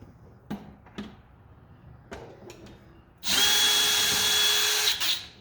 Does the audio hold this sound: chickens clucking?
no